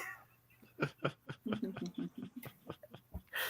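A dog whimpers and pants in a series of short, faint, high whines. The sound is unhappy and comes in irregular bursts, heard alone.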